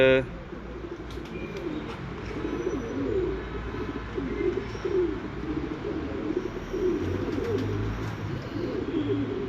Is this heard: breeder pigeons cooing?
yes